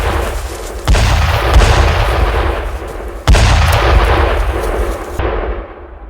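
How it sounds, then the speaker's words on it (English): Mortar rounds and gunfire in a WWII war film: two heavy booming impacts land with rumbling blasts and sustained battle noise, loud and close, with no speech. "A handful of mortar rounds fell around us"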